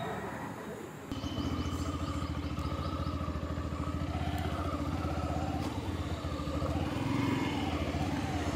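A Yamaha FZ motorcycle, ridden away from a showroom, runs with a steady, close engine drone and a low rhythmic throb that starts abruptly and continues throughout, with some rattling clatter over it.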